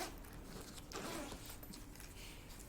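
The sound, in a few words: zipper being opened on a JB Cases case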